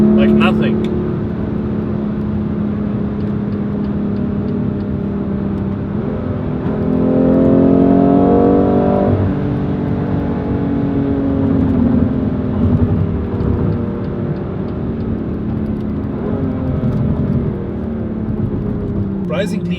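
A BMW M2 Competition's sports exhaust drones steadily while driving, swelling briefly as it revs up, with a low exhaust note and no crackles.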